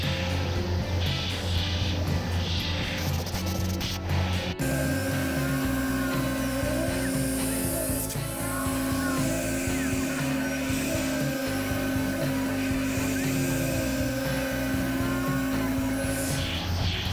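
A Tormach CNC mill machines a part with a continuous grinding, rubbing cut under a steady motor tone, changing pitch partway through as the tool moves, with no talking.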